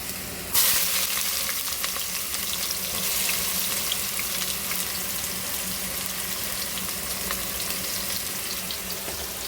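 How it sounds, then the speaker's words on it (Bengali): Panch phoron and garam masala crackle in hot oil, a sudden burst of loud sizzling that settles into a steady, close frying hiss, with no speech. "রান্নার জন্য তেল দিছি, তেলের মধ্যে হচ্ছে একটু পাঁচফোড়ন দিয়ে নিলাম।"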